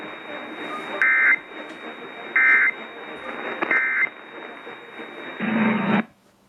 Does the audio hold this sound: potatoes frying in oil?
no